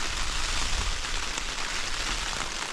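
Heavy rain pours on a solo wild campsite in cold wind, giving a loud, continuous hiss of drops hitting surfaces that stays steady from start to finish with no voices.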